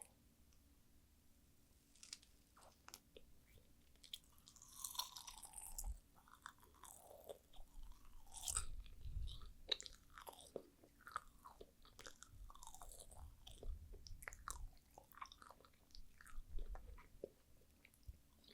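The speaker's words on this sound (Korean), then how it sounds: "한번 먹어볼게요. 마시멜로부터 봉실봉실." Close-miked chewing of soft marshmallow, quiet squishy bites and sticky mouth sounds in an irregular rhythm, with no talking.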